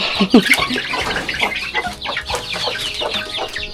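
Chickens cluck close by in a farmyard, with busy overlapping calls and a few sharper squawks. The sound is steady and fairly loud throughout, with no talking.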